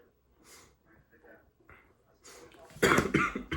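Coughing from a person recovering from flu, a few rough bursts growing louder toward the end, close to the microphone, mixed with breathy snorts and throat sounds.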